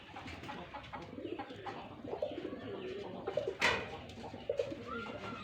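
Pigeons coo on a small pet farm, soft repeated throaty calls overlapping from several birds at moderate distance, with a few louder bursts and faint shuffling in the background.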